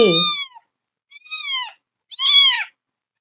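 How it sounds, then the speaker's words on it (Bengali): Kittens meowing three separate times, each a short high-pitched cry close to the listener, spaced about a second apart with silence between. "আর ম্যাও ম্যাও"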